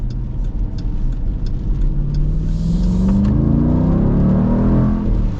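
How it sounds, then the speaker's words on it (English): A 2024 Dodge Durango SRT 392's 6.4-litre Hemi V8 accelerates hard, its throaty roar climbing steadily in pitch over several seconds, loud and close, with no talking. "Oh, listen to that V8."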